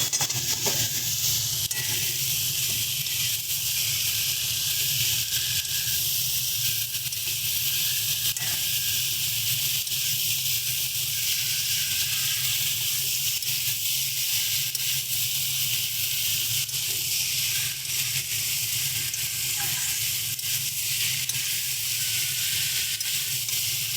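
Steamed young jackfruit is stirred with spices in a hot pan, a constant loud sizzle and hiss of frying running throughout, with faint occasional scrapes of the stirring spoon and no talking.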